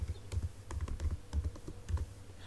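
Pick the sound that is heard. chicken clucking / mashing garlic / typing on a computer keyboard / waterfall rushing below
typing on a computer keyboard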